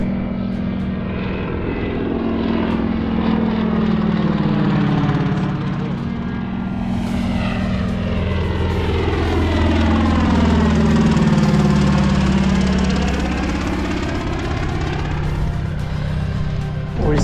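A propeller-driven airplane comes in to land on a desert road that doubles as a landing strip in Oregon's Owyhee Canyonlands. The engine drones steadily and grows louder as it passes close by, with Doppler sweeps and no talking.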